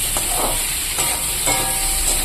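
Vegetable stalks fry with green chilli paste and turmeric in a home kitchen pan: a steady, fairly loud sizzle broken by several scraping stirs spaced about half a second apart, with no talking.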